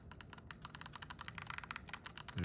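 Small plastic buttons on a Cobra RAD 490i laser radar detector clicked over and over in quick, uneven bursts, close and fairly quiet, with no talking.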